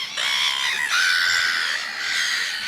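A human voice imitates seagull screeches, giving a few shrill, wavering cries in quick succession, loud and close with no other sound around them.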